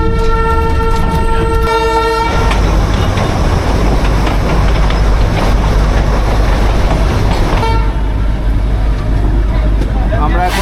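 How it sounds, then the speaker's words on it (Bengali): The Darjeeling toy train sounds a loud, sustained whistle toot for about two seconds, then rumbles and clatters on as it pulls away from Ghum station, with a shorter horn blast later and constant loud running noise. "আমরা ঘুম স্টেশন থেকে ট্রেন এখন ছেড়ে দিয়েছে, এখন দার্জিলিংয়ের দিকে যাচ্ছি"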